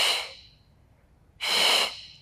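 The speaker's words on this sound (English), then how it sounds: "We exhale." Two forceful breaths exhaled during a Pilates lower-back exercise, one at the start and a longer one after a brief quiet pause, close and clear with no talking.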